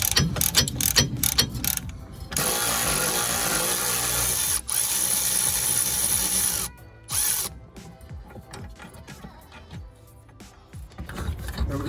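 Ratchet and breaker bar working loose the wheel bolts on a Skoda Superb, with rapid clicking bursts, metallic clanks and pauses, close and moderately loud.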